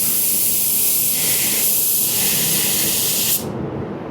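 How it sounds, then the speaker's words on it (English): A spray gun sprays clear-coat in a steady, loud, close hiss that holds for over three seconds, then cuts off abruptly and leaves a quieter background. "I'm spraying, when I spray this"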